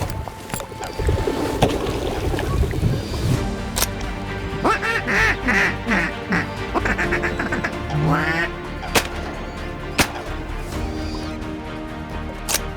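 Ducks quack repeatedly around a spread of hunting decoys in Alberta, several birds calling close and far, with a goose honking and a few sharp clicks and knocks in between.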